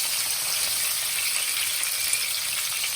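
Steak frying in oil in a pan, a close, even, continuous sizzle with fine crackle that holds steady without any talking.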